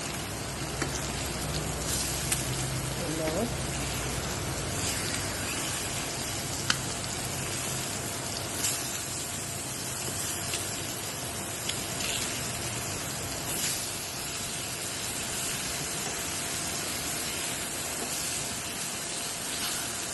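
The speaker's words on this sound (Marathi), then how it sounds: "बघा, असा हा तुकड्या ह्या उलटून घ्यायच्या, दोन्ही बाजूने चांगल्या तळायच्या" Spiced bombil fish pieces fry in a pan, producing a steady, dense sizzle that continues evenly throughout with no talk.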